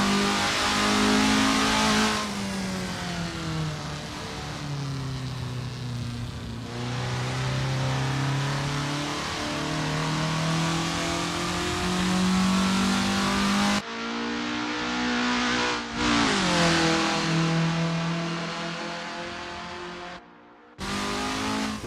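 Formula Ford race car engine in a sim racing game at Brands Hatch GP, a loud steady drone rising and falling through gear changes, with brief cut-offs and revs as the car eases around the track.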